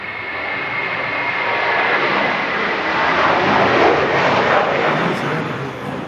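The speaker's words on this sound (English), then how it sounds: "Air New Zealand is going to take off right through where it's going to taxi" An Air New Zealand airliner taking off from an airport in strong winds, its engines a broad, loud roar that swells to a peak midway and then slowly eases as it passes.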